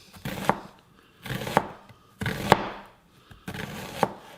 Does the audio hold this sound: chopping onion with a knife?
yes